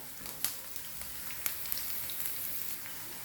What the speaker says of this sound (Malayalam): 1 മിനിറ്റ് ഇതുപോലെ ഇങ്ങനെ ഒന്ന് വഴറ്റുക വെളുത്തുള്ളി